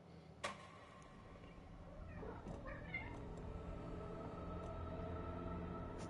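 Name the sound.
cat meowing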